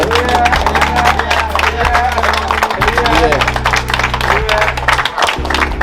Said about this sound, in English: So we give natural a round of applause.